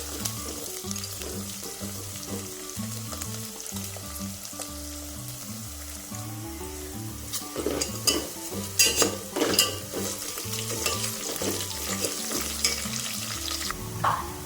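Onion for chicken biryani frying in a pan until brown, a steady sizzle under a looping background tune, with louder bursts of stirring and scraping in the second half.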